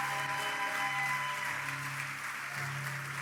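Church congregation applauding together in a steady, dense wash of clapping that fills the hall, with a faint sustained tone underneath.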